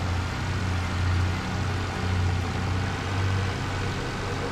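Tractor engine from the farming video game Farming Simulator 22, running with a small cultivator, a steady low idling drone with a gentle rise and fall in loudness, no talk over it.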